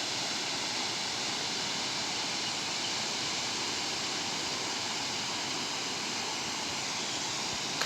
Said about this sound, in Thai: ทุกคนเบิ่งน้ำตกตาดนี่สวยงามหลายว้าวเถอะ